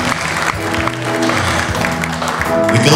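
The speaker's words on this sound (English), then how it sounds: "I want you to give yourselves a round of applause" Audience applause at a live music performance, a continuous, fairly loud patter of clapping with some crowd noise underneath, lasting a few seconds.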